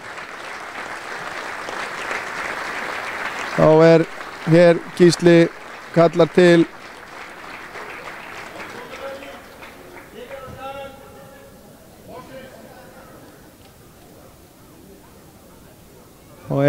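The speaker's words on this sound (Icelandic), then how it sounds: "Hann klappar lof í lófa sjálfsögðu." Scattered applause at an Icelandic third-division men's football medal ceremony, soft clapping in the background early on, while someone speaks over it and brief loud bursts break in midway.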